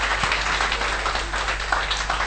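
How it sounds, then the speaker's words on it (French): A church congregation applauds in a steady wash of scattered clapping, moderately loud and continuous, with a low hum underneath. "Applaudissez Jésus, alléluia."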